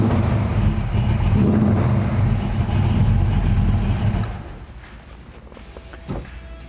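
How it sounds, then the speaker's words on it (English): A 1969 Camaro SS with a big-block Chevy V8 roars loudly and steadily for about four seconds, then drops to a quieter idle with a brief blip near the end. "That's big block Chevy right there."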